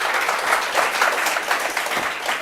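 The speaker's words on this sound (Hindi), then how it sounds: "तालियां भाई जोर से भाई" A group claps loudly to cheer a student's CUET-ICAR selection, dense continuous applause with a rolling, uneven texture and no speech over it.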